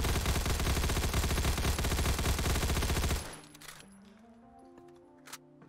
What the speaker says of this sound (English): you can see the bullets tick down as we fire right now.